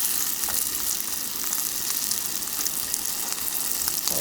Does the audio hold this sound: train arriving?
no